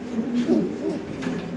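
Lahori pigeons cooing softly at a pigeon farm, low rounded calls rising and falling in a near, steady murmur.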